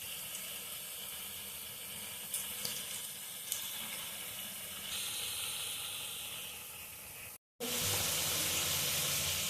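A steady hiss of potato koftas frying in hot oil fills the clip, broken by a brief silence before the sizzling resumes.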